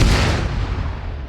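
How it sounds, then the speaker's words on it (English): A WW2-era mortar round strikes in Arma 3 with the IFA3 Lite mod: one loud, close boom that rumbles and slowly fades over about a second. "let's drop a mortar on them"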